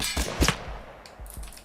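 Gunfire in Totally Accurate Battle Simulator, a quick cluster of sharp, close shots followed by several fainter, spaced-out pops.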